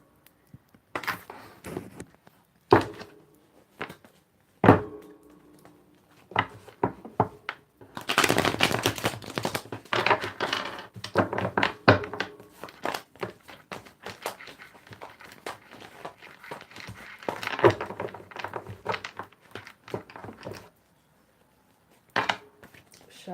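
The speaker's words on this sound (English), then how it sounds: "Shuffling for Evelyn here." Tarot cards being shuffled by hand in bursts, with riffling flurries and sharp slaps of cards against the deck or table, separated by short quiet pauses, close and crisp, with no speech.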